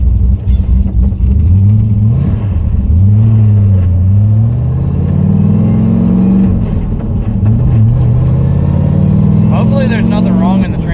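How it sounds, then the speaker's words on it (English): A turbo nitrous LS-swapped Miata pulls hard from inside the car, its loud engine note climbing through gears with dips between shifts and a heavy drivetrain rumble, with speech at times. "just because you can hear the clutch so loud."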